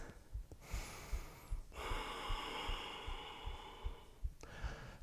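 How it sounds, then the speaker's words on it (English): Deep, audible breaths during a power yoga flow held in warrior two, with long airy inhales and exhales close to the ear over a steady low rhythmic thump. "Three deep breaths."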